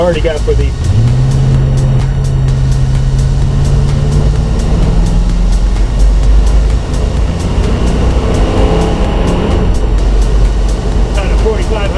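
Car engine with a newly installed torque converter revving up, its pitch climbing then dropping as it shifts into third gear, loud and close inside the car with a voice talking over it.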